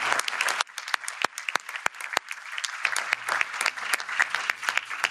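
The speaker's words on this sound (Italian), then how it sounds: "a cui tributerei un grande applauso" Audience applause at a European Parliament conference, a dense burst of many hands clapping that dips briefly after the first half-second, then swells again and continues steadily to the end without any voices.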